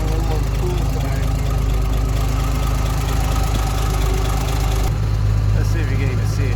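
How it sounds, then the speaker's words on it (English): A big 1958 Mack B-21 fire truck engine, running after 30 years of sitting, idles with a steady low rumble and a faint knock, loud and close for the whole stretch. "this thing runs surprisingly smooth for how big and beastly this engine is"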